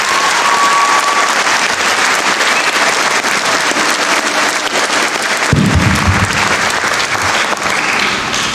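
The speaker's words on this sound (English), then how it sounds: "so please give him another round of applause." Audience applause at a university graduation ceremony for the Faculty of Business, Law and Social Sciences: a dense, loud, continuous crowd of clapping that fills the hall throughout, with no speech.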